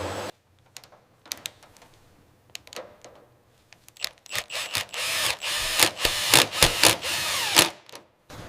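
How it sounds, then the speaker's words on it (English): A drill with a diamond-tipped bit whirs through carbon fiber in uneven bursts, starting with scattered light clicks and rising into loud, sustained grinding with brief pauses. "Drilling carbon fiber is difficult. It splinters easily."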